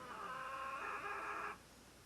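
Chickens roosting near a porch give a faint, brief clucking call lasting about a second and a half before it cuts off into quiet background.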